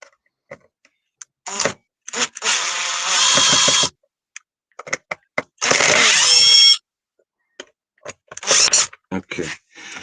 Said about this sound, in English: taking off the 3 screws